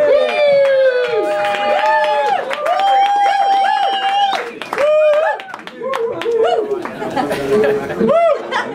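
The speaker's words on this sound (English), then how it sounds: "Big round of applause" A crowd at a record label launch night claps and cheers amid loud chatter and whoops, with many voices layered over scattered applause close by.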